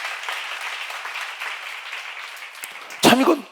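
A church seminar congregation applauds steadily in a broad, even wash that fills the room, then a voice cuts in near the end.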